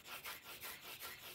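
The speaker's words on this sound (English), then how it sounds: "Rubbing out, rubbing out," A cartoon eraser rubs out a drawing in quick rhythmic strokes, about six scratchy back-and-forth rubs in a little over a second, faint and alone.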